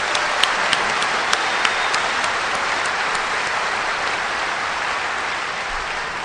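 A large crowd at an AA speakers meeting applauds steadily throughout, dense continuous clapping with a few sharper claps standing out near the start.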